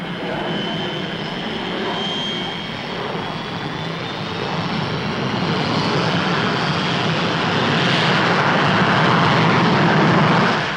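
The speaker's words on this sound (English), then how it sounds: "The Delta II is yet another research aircraft probing into the future." A Delta II supersonic research aircraft with exceptionally thin wings flies a demonstration at the Farnborough air show in the 1950s, its broad jet roar building steadily louder and closer toward the end, with no talk.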